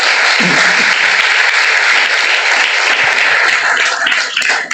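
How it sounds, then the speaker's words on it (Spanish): A church congregation at a Sunday school service claps in a sustained, dense burst that keeps up steadily before tapering off at the very end. "Denle un aplauso al Señor en esta hora"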